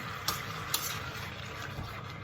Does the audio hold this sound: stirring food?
yes